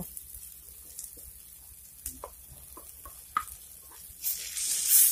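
Nut paste with spices sizzling in a pan for a winter vegetable niramish labra, with a soft steady fry under scattered scrapes and taps of a stirring spoon that grow into a louder hiss near the end.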